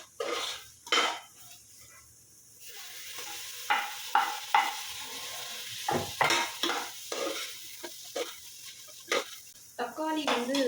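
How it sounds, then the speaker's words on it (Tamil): Tomatoes sauté in a pan for chicken biryani, with a soft sizzle under repeated scraping and clinking of a spoon against the pan, close by. "ஸோ இப்போ வந்து நான் தக்காளி போட போகிறேன்."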